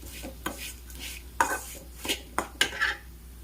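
Semiya and bombay rava dry-roasting in a kadai, stirred with a spoon that scrapes and clinks against the metal in several short strokes, close and moderately loud, no voices.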